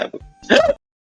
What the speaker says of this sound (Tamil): அது நான் விக்கல் சத்தம் வித்தியாசமா டபுளா கேக்குது